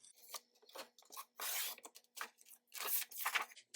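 Paper being cut for a notepad cover, with a run of short scissor snips and tearing rasps in quick irregular bursts, close and fairly quiet, with no talking.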